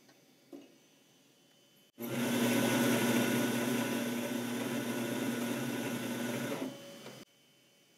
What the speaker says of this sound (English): You hear the machine working? It just ground your coffee fresh right now.